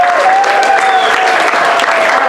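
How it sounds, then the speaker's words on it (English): An improv comedy theater audience applauds loudly and continuously, a thick close roar of clapping with a faint whistle-like tone running through it. "Give her a nice round of applause."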